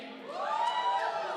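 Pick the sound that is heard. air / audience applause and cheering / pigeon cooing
audience applause and cheering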